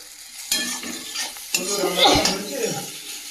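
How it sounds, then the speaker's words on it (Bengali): Potatoes frying in hot oil with turmeric and cumin powder, the spatula scraping and knocking against the pan in a few distinct strokes over a bright, continuous sizzle, close and fairly loud. "আলুগুলো বেশ ভালো করে ভেজে নেব এই পর্যায়ে দিয়ে দেবো পরিমাণ মতো হলুদ গুঁড়ো"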